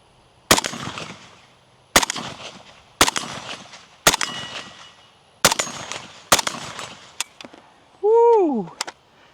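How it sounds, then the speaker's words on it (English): Repeated gunshots from the Resonator K rifle in a video game, six sharp loud reports spaced about a second apart, followed by a brief rising and falling whoop-like tone at the end. "couple more shots with the Resonator K"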